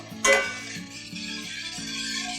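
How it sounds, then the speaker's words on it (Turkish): Meatballs and potatoes are stirred in a pot of sauce with tomato paste, giving a soft scrape and clink of the spoon over a steady background hum, with one sharper knock near the start. "Şöyle güzelce karıştırıyorum."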